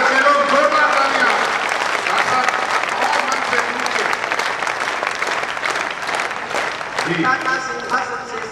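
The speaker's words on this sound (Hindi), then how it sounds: "जोरदार तालियां" Loud, sustained applause from an audience at a Hindi kavi sammelan poetry gathering, dense clapping filling the whole stretch with voices mixed in and a brief voice near the end.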